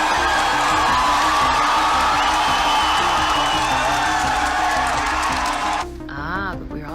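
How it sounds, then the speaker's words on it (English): A loud crowd shouts, whoops and screams continuously, with a dense roar of voices that suddenly drops away near the end. "clapping and screaming and shouting like this"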